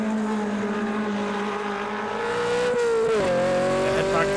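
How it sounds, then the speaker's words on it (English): A Stryker sports car racing at Mondello Park holds a loud, steady engine drone close by, its tyres squealing as the engine pitch shifts and climbs near the end. "Getting a fair amount of protestation from the tyres on that little Stryker."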